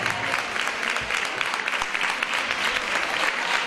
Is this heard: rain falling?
no